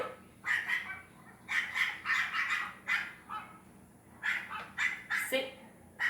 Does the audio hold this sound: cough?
no